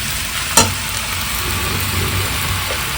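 Sabudana (sago) frying in a pan as it is stirred, giving a steady close hiss of sizzling with one sharp clink of utensil against pan near the start, no talking.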